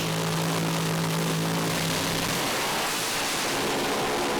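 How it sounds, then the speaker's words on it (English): Pro Alcohol drag racing cars at Willowbank Raceway's Winternationals rev up and launch with a loud, sustained, roaring engine blast that fills the clip without letting up. "Revs right up for the launch."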